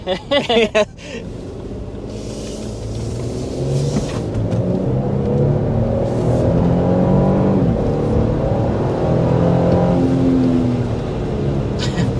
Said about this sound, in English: That was an acceleration up to 60 miles per hour.